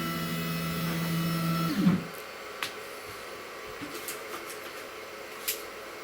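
A CNC wood router moving its gantry out of the way, a steady whining motor hum with pitch that stops abruptly after about two seconds, then quiet with a few faint clicks and taps.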